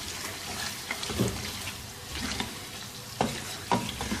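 Lahori food street style chicken karahi sizzles in a pan during bhunai, with a steady frying hiss and several louder stirring scrapes and clatters at irregular intervals.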